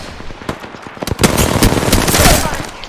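Bursts of rapid automatic gunfire in a first-person shooter, a few sharp shots leading into a loud sustained volley, with a player talking over it.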